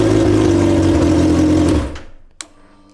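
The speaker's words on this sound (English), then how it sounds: "when you pull the clutch in and press the starter button, it works fine." A 2012 Suzuki GSX-R 1000 motorcycle engine cranks and runs with a loud, buzzing mechanical drone, then cuts off, leaving a single sharp click and quiet.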